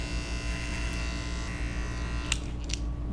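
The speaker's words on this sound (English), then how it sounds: "I'm riding flat against that comb with my clippers, blending that line." Electric hair clippers buzz steadily while blending a fade line against a comb during a haircut, a close, continuous hum with a few brief snipping and scraping touches near the end and no speech.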